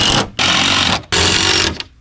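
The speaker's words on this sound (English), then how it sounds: "Right now we're going to screw down all the plywood." Hex head screws driven into plywood sheets with a power driver during a tiny home build, two long loud buzzing bursts of the driver, each trailing off as the screw seats, close up with no talk.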